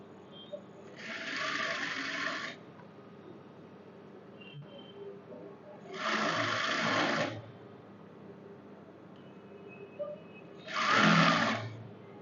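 A sewing machine stitches a salwar hem in three separate bursts of rapid whirring, each lasting one or two seconds, with quiet pauses between them, close and clear.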